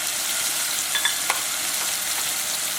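Tomatoes sizzle steadily in a hot pan for dal soup while black pepper and turmeric are stirred in, a continuous close frying hiss broken by a few soft spoon scrapes.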